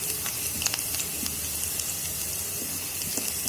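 Sliced carrots, beans and cabbage sauté in a pan for egg pulao, giving a soft, steady sizzle with occasional light crackles. The sound is faint and close, and no one speaks.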